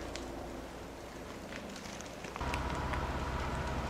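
Crackling fire of a prescribed burn on National Forest land, heard from a distance as a faint, steady hiss with scattered sharp pops, growing fuller partway through.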